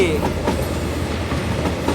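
A train hauled by locomotive GEK 4045 rolls over a rail switch, a continuous rumbling roll with rhythmic wheel clicks and a brief squeal at the start, heard from on board under faint background voices.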